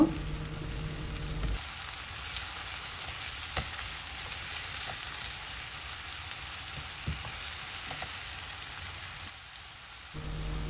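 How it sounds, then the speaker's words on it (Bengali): Ginger-garlic paste fries with onion and garam masala in a pan, giving a continuous hissing sizzle like rain on a surface, with a few soft stirring knocks, up close and without talk. "এখন এই পেঁয়াজ আর গরম মশলার মধ্যে আদা রসুন বাটাটা কিছুক্ষণ ভেজে নিব"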